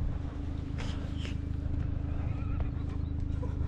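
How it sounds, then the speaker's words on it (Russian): Horses neigh and walk freely in the spring mountains of North Ossetia, a few whinnies and hoof sounds faint under a steady low rumble of wind or running water. "лошадки себе гуляют сами"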